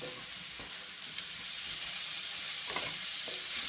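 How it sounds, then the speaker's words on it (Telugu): Two tomatoes are stirred into a hot frying pan, giving a steady sizzle with soft scraping stir strokes around the middle and end, close and fairly quiet with no talking. "ఇప్పుడు ఇందులో టమాటాలు యాడ్ చేస్తున్నాను. ఒక రెండు టమాటాలు యాడ్ చేసిన తర్వాత అవి కూడా బాగా కలిపి"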